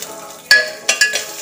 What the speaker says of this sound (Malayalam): കുറച്ച് പശു നെയ്യ് ഒഴിച്ചിട്ട് അതിൽ തേങ്ങാ കഷ്ണം അത്